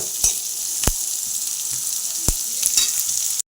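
Onions, green chili and curry leaves sautéing in a pan for upma, with a loud, steady sizzle and several sharp spatula taps and scrapes against the pan.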